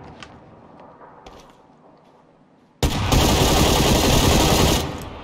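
Sustained automatic gunfire from a weapon in the battle-royale video game PUBG Lite bursts in loudly after quiet game ambience, a dense continuous rattle lasting about two seconds before it trails off.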